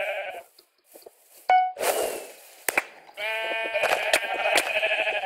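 Sheep bleat in a video game battle, with several loud, drawn-out bleats that overlap toward the end, broken up by sharp popping bursts.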